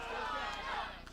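Wrestling crowd at a live ring event, a steady roar of cheering and chatter filling the hall, with a commentator's voice over it.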